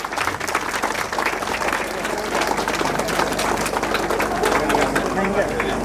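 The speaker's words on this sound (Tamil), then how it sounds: "பலத்த கைத்தட்டல் கைத்தணும்." An audience claps steadily through an inauguration ceremony, a dense, continuous wash of many hands at close range, with voices and some chirping mixed in underneath.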